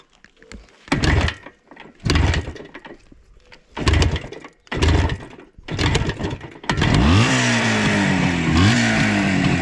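An IZh Jupiter 4 motorcycle engine sputters through several short bursts of revving, then catches and settles into a loud, continuous idle near the end.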